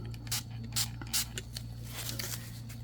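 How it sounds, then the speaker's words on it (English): Several short, close hissing bursts from a spray bottle mist alcohol onto fresh resin to pop bubbles, spaced unevenly over a low steady hum. "But you know what? I will spray it."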